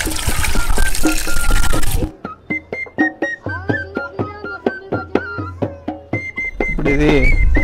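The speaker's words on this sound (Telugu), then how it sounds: "పలచని వెల్ల లాంటిది తీసుకొని లేదా పలచని బట్ట కానీ తీసుకొని వడపోసుకోవాలి" Cooled taro root (chamagadda) extract is poured and strained through a thin cloth, starting with about two seconds of loud, steady splashing. Sparse drips and small clinks follow, then a short burst of pouring returns at the end.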